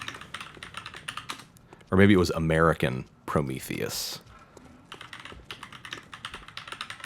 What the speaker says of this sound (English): Just clicking and clacking and me Googling things